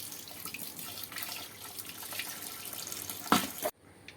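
Tap water runs steadily into a sink while a female crab is cleaned, a close, continuous splashing flow with small splashes, ending abruptly with a louder burst before stopping.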